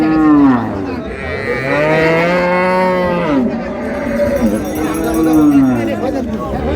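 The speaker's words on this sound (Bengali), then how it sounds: "গাভী বাছুর।" Cows and calves mooing at a busy village cattle market, several long drawn-out moos one after another, loud and close, with crowd chatter and people talking underneath.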